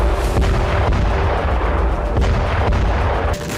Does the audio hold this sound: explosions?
yes